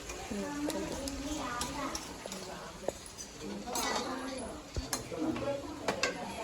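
Ginger paste stirred into a simmering curry in a pan, with soft scraping and intermittent sizzling, a few sharp clinks of the spoon against the pan, and light background voices.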